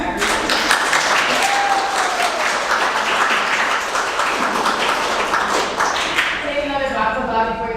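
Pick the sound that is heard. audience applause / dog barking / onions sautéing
audience applause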